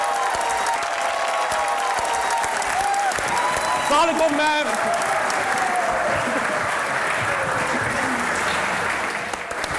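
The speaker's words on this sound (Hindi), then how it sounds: "तालियां बजती रहनी चाहिए।" A studio audience claps steadily for two guests arriving on a television talk show, continuous applause throughout with a host's voice speaking briefly over it.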